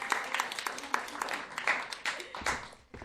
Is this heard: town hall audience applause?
yes